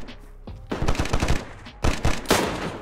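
Gunfire in the survival shooter DayZ on the snowy Namalsk map: several loud, close shots in two quick bursts, one rapid string of cracks and then a couple of sharp reports, with no talk.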